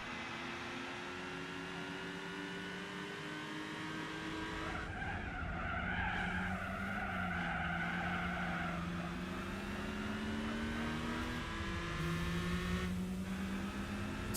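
A Honda CRX races in Gran Turismo 4, its engine droning steadily as the pitch rises and falls through gear changes, with stretches of tire squeal and skidding over about fourteen seconds of continuous racing.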